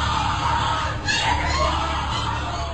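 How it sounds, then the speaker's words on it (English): Muffled screams and chaotic raised voices fill a Skull and Bones initiation ceremony, a dense, noisy crowd din with a sharper outburst midway, captured as a rough, distant-sounding recording. "What you're hearing is the first recording ever made of the Skull and Bones initiation ceremony."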